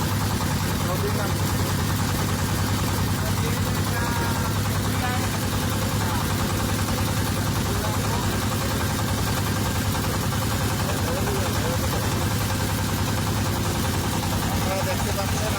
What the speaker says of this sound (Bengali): আমরা ইঞ্জিন চালিত নৌকায় করে যাচ্ছি।